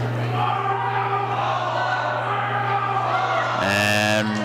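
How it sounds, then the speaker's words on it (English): A crowd in a gym at a girls basketball game, a steady loud wash of voices and shouting, with a sharp tonal whistle-like burst near the end over the continuous din. "Crowd getting pretty feisty on both sides."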